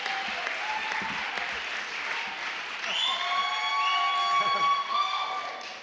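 Audience at an ordination ceremony applauds and cheers, steady clapping with whoops and shouts, then whistles and a blown noisemaker or horn ring out over the crowd.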